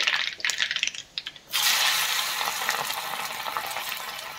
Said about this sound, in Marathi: मोहरीची फोडणी करतोय आपण, व्यवस्थित मोहरी टाकायची आहे आणि त्यानंतर जो आपण ठेचलेला लसूण आहे तो मी टाकते